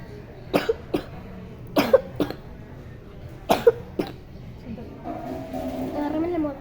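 A child coughs hoarsely in a hospital emergency ward, with several sharp coughs coming in close pairs, then a low rumbling background sound toward the end.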